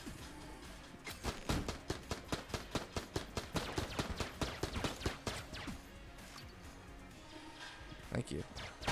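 Rapid gunfire from enemies in Enter the Gungeon, a fast run of sharp shots and bursts in an uneven stream that thins out near the end, with a voice speaking over it.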